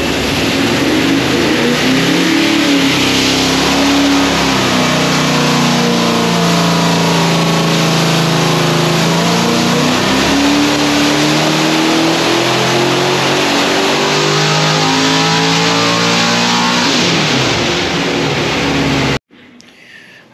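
Carbureted car engine revving hard on a dyno pull, a loud sustained roar with steadily climbing pitch for nearly twenty seconds before cutting off abruptly to quiet.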